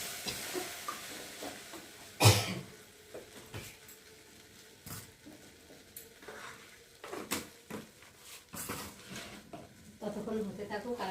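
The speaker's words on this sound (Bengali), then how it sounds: "ভালো করে একটু যত কষিয়ে নেবে তেলের মধ্যে বা মশলার মধ্যে চালটা ডালটা" Rice and lentils being stir-fried in oil and spices for khichuri, soft sizzling and intermittent scraping of a spatula against the pan, with sharp clinks and gentle frying hiss through the stretch.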